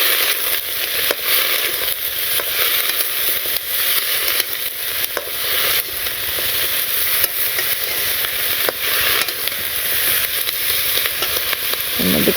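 Eggplant and vegetable stalks sizzle loudly in a hot pan, a dense, continuous crackling hiss heard up close with scattered sharper pops.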